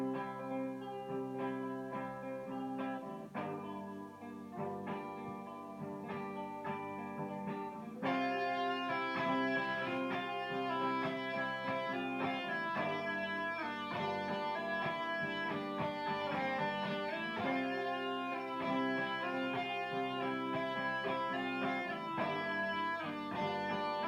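Layered guitar loops playing a piece, sustained chords and melodic lines over a steady looped bed that thickens after a few seconds, continuous and evenly loud with no talking.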